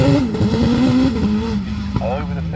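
GWR Raptor 2 hillclimb race car with a 1.6 litre booster engine, a steady high engine drone climbing through a bend at a speed hillclimb, loud and sustained under continuous commentary.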